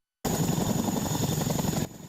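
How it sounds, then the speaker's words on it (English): Helicopter landing near a parking lot, a loud rapid rotor chop and engine roar starting suddenly and holding steady, then dropping in level at the end. "People spotting this helicopter landing, rushing to this parking lot"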